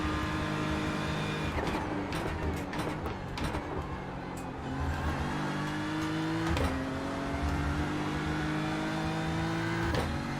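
A GT3 race car on a lap of Bathurst in the iRacing simulator, its engine droning loud and continuous and climbing in pitch through the gears, with brief shifts and dips as it brakes and accelerates.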